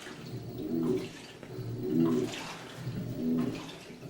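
A 2006 GE Profile washing machine drains in three gurgling surges of water, each with a low cooing, pump-like tone, recorded close with no talk.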